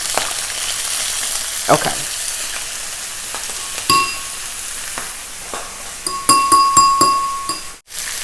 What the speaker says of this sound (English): then you're ready to put your bacon in.